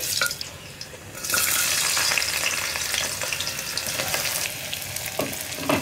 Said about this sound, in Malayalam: ആ ഇഞ്ചി ഒന്ന് കുക്കായി തുടങ്ങുമ്പോൾ നമ്മുടെ ഉള്ളിയും സവോളയും ചേർത്ത് കൊടുക്കാം നമുക്ക്.